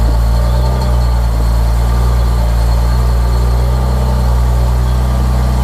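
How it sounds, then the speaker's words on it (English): BMW S50B32 engine with a freshly refitted VANOS running unevenly just after a cold start, a steady low rumble with a rough, lumpy idle throughout, close and loud with no talking. "Start the engine. It will be lumpy to start with as the cams are not in the correct initial position."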